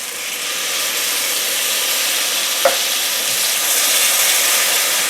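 Tomatoes hit hot oil and frying spices for a potato pea curry, giving a steady bright sizzle and hiss with one brief sharp crackle partway through and no voices.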